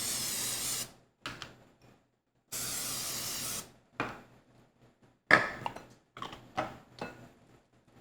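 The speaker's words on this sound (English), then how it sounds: "spray these very well with cooking spray," Two long hissing bursts of cooking spray onto ramekins, close by, each about a second, followed by light clinks and taps of dishes being handled.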